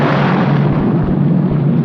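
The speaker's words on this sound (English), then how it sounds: "they'd use stock footage for that explosion for sure" An explosion from an old horror film, a continuous loud, rumbling roar with dense low crackle that fills the whole stretch without letup and no voices on top.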